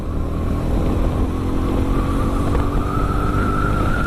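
Steady motorcycle engine drone while riding along a cold, foggy road, a constant mid-pitched hum with a faint whine over continuous wind and road noise, close and unbroken.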